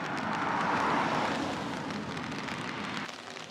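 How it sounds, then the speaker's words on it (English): Steady rain hisses on a surface in Japan, a broad even wash of droplets at moderate level with no voices. "And it's raining now."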